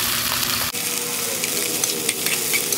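Vegetables stir-frying in a hot pan for sinangag garlic fried rice: steady loud sizzle and hiss with scraping stirs, close and continuous, with no talk.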